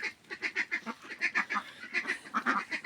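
Indian Runner ducks quack repeatedly at close range in a rapid, overlapping series of nasal honks, with no talking.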